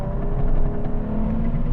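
Nissan 350Z pulling through hairpins in third gear, a close steady engine drone and rumble with a slight swell in revs, heard alone for a brief moment.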